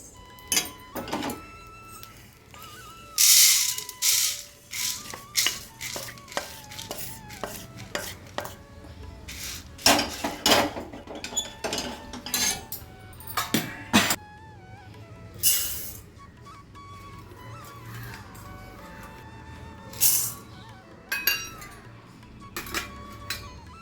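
Roasted sambar spice powder is scraped and tipped from a pan onto a plate, with irregular metallic clinks, scrapes and knocks at close range, some louder clatters between quieter pauses.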